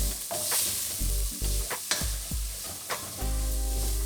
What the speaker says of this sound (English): Now stir that around a little just to sort of get the raw taste of spice out of it.